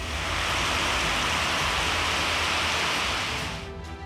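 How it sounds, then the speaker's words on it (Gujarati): Heavy rain pours in a dense, steady hiss in Lakhani, north Gujarat, with knee-deep water flowing on the roads, loud and close, easing slightly in the final moment. "ધોધમાર વરસાદનું આગમન થયું છે"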